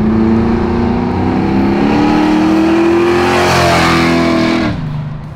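A procharged 650 hp Chevy Chevelle SS restomod revs hard with its exhaust cutouts open, a loud, close, screaming engine note that holds and climbs steadily, then drops away sharply near the end.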